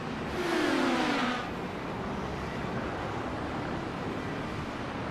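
IndyCar race car in a sim racing game at Road America, running off into the sand trap and over the curbing: a brief engine surge early on, then a steady broadband roar of tyres and engine.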